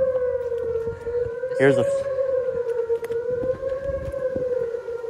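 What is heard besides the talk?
Thunderbolt civil defense siren sounding in the distance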